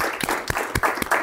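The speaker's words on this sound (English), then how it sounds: "So just a round of applause to Bottom Line for that" A few people clap sparsely in a meeting room at an Agile bootcamp, with a handful of distinct, evenly spaced claps over a soft room background.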